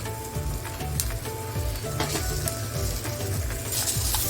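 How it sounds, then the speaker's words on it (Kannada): Ingredients roasting in a hot pan for a Kannada-style okra (bende) rasam masala, frying until golden brown, give a steady close sizzle with occasional stirring scrapes throughout, no talking. "ನೋಡಿ ಗೋಲ್ಡನ್ ಬ್ರೌನ್ ಬರೋವರೆಗೂ ಹುರ್ಕೊಳ್ಳಿ"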